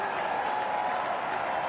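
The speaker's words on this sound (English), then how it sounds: "Virat Kohli will come and applaud his teammates" Crowd applause at a Test cricket match between Australia and India, greeting India's unbeaten 172-run opening stand, a steady, broad wash of clapping and crowd noise that holds evenly throughout without a break.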